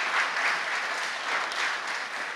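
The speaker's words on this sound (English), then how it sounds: "I'm just give them another round of applause." A church congregation at a Sunday service gives a round of applause, a steady, full wash of clapping with no break for the whole short stretch.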